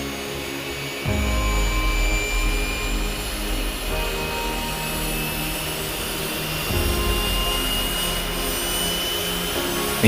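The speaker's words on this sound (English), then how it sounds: "Engine start" An airliner's jet engine starts up after pushback from the airport gate: a steady, loud broadband roar that climbs in two distinct steps, with no voices.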